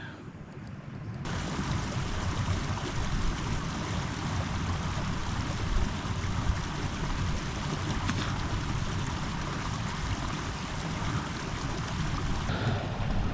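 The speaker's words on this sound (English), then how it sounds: "So we're on a rolling boil now" Water churns at a rolling boil for sterilizing, a dense, loud continuous bubbling roar that starts abruptly after a quiet moment and holds steady.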